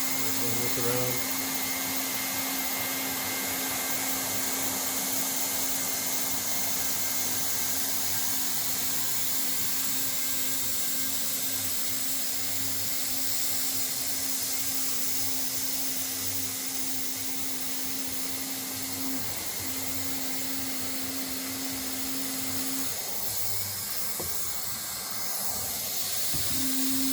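Tack welding on a fabricated black water tank for a van conversion: a steady, loud hiss and buzz of the welding arc runs throughout, with a constant hum underneath and brief breaks near the end.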